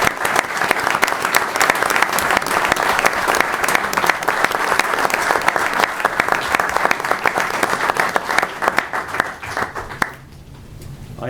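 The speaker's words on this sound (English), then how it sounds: "Let's offer our veterans a nice round of applause." Village board meeting audience gives veterans a sustained round of dense applause, steady and loud for about ten seconds before it abruptly cuts to quiet room tone.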